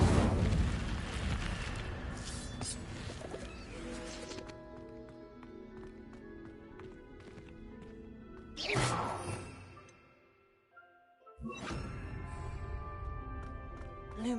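The Incendio fire spell is cast in the video game Hogwarts Legacy, giving loud, roaring fiery bursts. One bursts at the start and two more come near the end, set against quieter game ambience.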